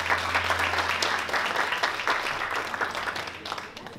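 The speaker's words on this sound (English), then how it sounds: "Round of applause, please." An audience at an honours event gives a steady round of applause as a speaker is called up, many hands clapping continuously over a low hum, tapering slightly at the end.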